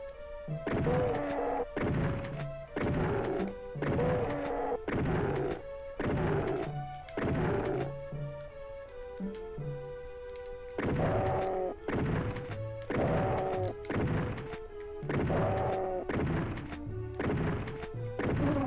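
Repeated shotgun blasts in DOOM on the SNES, heavy punchy shots in a fast rhythm with a short pause midway, played over tonal game music.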